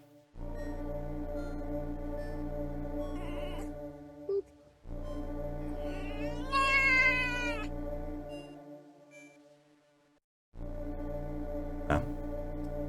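A cat making long, drawn-out yowling meows, several sustained harmonic calls separated by short silences, one rising into a loud wavering cry, close and clear.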